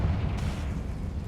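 A Confringo spell blast from the video game Hogwarts Legacy erupts as a heavy, low rumbling boom with a sharp onset, then holds as a sustained roar through the short stretch with no talk over it.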